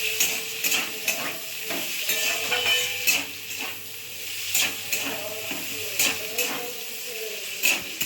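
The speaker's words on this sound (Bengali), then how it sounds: "কেটে রাখা পেঁয়াজ কুচি দিলাম। এইভাবে নাড়াচাড়া করতে হবে।" Chopped onion stirred and fried in a pan for paneer chilli, giving a steady sizzle with scraping stir strokes throughout, close and moderately loud with no talk.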